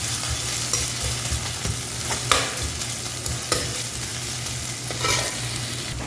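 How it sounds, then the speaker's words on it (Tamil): Potato masala sautéing in a street-food pan, a steady sizzle broken by periodic sharp scrapes and clanks of a spatula against the metal, close and loud with no talking. "வதங்கிட்டு இருக்கு"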